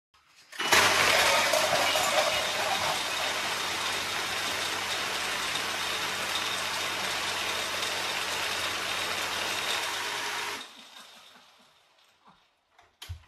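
A motorized MOAB Nerf minigun blaster fires darts in one sustained burst of roughly ten seconds, a loud steady whirring motor roar with rapid dart hiss, then cutting off abruptly followed by a few faint clicks.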